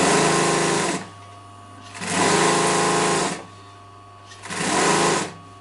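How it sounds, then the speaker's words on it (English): A sewing machine runs a lock-stitch half-inch seam on a double-piped chair cushion, humming loudly in three steady bursts of about a second each, with short quiet pauses between. "Now go to sew a seam, half-inch seam,"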